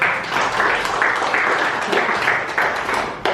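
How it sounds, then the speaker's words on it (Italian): A short burst of applause from a small group of people at a live chess tournament, dense and steady clapping close by for a few seconds. "qui ci vuole un applauso"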